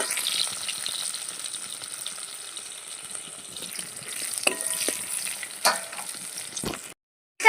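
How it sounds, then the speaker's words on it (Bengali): Chopped onions frying in oil for a fish curry, a steady close sizzle with bursts of stirring and scraping, ending in a brief silence. "কেটে রাখা পেঁয়াজ দিয়ে দিচ্ছি পেঁয়াজটা একটু লাল লাল করে ভেজে নেব"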